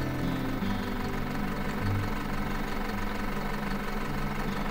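A tractor engine runs in the farming game Farm Manager 2018, a steady, loud, low knocking drone that holds constant for several seconds with no talk over it.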